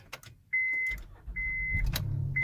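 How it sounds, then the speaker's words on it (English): A Honda Pilot SUV running on a 12-cell A123 LiFePO4 battery cranks with a short whirring starter sweep and catches, then settles into a steady low engine rumble, with a repeating high electronic chime sounding over it. "The car start, no fire."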